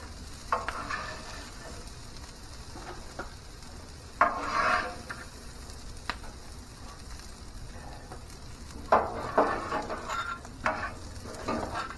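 Bacon fried corn is scooped and stirred into a big pan, giving scraping metal-on-pan strokes over a soft continuous sizzle, with a few louder scoops spaced through the stretch.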